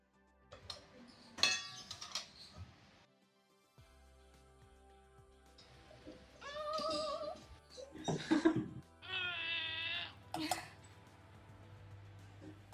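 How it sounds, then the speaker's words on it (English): Unpeeled boiled potatoes being mashed with butter through a sieve, giving intermittent clinks and scraping knocks of utensil on metal, with laughter and giggling nearby between the strokes. "now I've got to mash them through this sieve"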